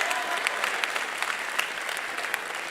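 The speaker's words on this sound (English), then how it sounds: "Clap it on up." A chapel audience applauds steadily, a dense crackle of many hands clapping at close range that holds evenly throughout.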